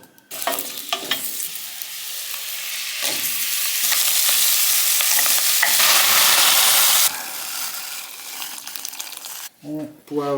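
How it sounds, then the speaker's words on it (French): Vegetables sautéing in a little olive oil in a pan, a loud steady sizzle building and holding for several seconds with stirring scrapes, then cutting off abruptly near the end, where brief talking follows. "on va donc faire revenir les légumes dans un petit peu d'huile d'olive."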